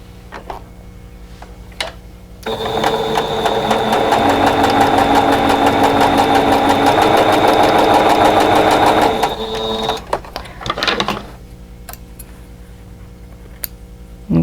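A sewing machine sews fabric triangles for a 4-patch fox and goose quilt block, with a loud, steady motor whir and rapid needle chatter lasting about seven seconds, then a few scattered clicks as it stops.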